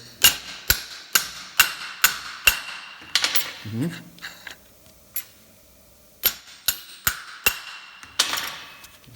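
A hammer strikes a nut to pull the cam gear off a Ford Model A camshaft, giving sharp metallic blows in quick runs with short pauses between, close and loud.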